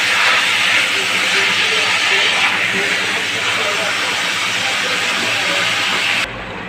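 Mutton pieces with their fat sauté for biryani in a hot pan, giving a loud, steady hiss of sizzling that holds for several seconds before dropping off abruptly near the end.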